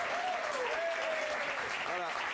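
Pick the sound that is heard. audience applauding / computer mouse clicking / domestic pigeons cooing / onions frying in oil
audience applauding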